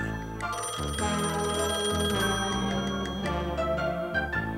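A cartoon top secret gadget phone rings within a busy, layered musical score, producing bright repeated electronic chimes amid sustained tones.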